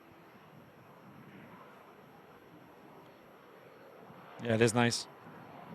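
An aircraft at Manchester Airport, painted with a flag-style tail, gives a faint, distant, steady engine rumble throughout, while a person briefly speaks near the end.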